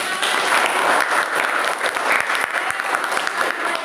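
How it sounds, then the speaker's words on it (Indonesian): A classroom full of students claps on request after a lesson about electrolysis components, dense steady applause filling the room from start to finish with no voices over it. "Oke, kasih tepuk tangan."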